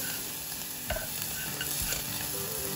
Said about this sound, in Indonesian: Bawang bombaynya udah mulai layu, turunin garlicnya, bawang putih, sampai wangi.